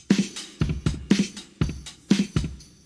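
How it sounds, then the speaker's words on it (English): Tambourine loop from a Kashmir sample pack in an indie pop production, jingly shaken hits repeating in a steady groove with crisp bright attacks, alone with no voices. "And then a tambourine loop from Kashmir."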